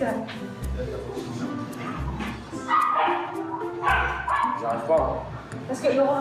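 A dog barks and yips in several short bursts at close range, interleaved with French conversation between people nearby.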